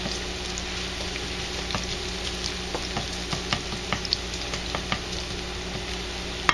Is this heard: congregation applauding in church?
no